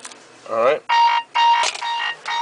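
A mobile phone chimes inside a 2007 Cadillac Escalade AWD, with repeated bright electronic tone bursts in a rhythmic pattern, close and clear, while someone briefly speaks over it.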